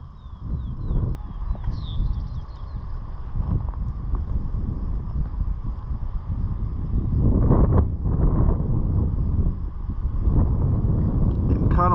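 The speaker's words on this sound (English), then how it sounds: "Getting kind of windy out here." Strong wind buffets the microphone in continuous low rumbling gusts that swell louder toward the end, with a faint high bird-like chirp early on, outdoors on the Kennebunk Plains blueberry barrens in Kennebunk, Maine.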